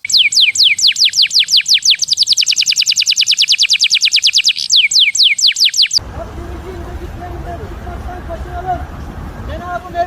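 A caged canary sings alone for about six seconds, a fast run of high trilling chirps and rolling phrases, before the song cuts off to muffled background noise and faint chatter.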